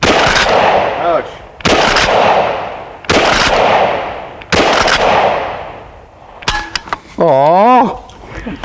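A KSG410 shotgun fired at a shooting range, four loud booming shots at roughly even spacing, each ringing out with a long decay, followed by close excited voices talking.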